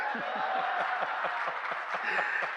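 An audience at a humorous Hindi poetry recital applauds with steady, rapid clapping that carries on for a couple of seconds at moderate loudness.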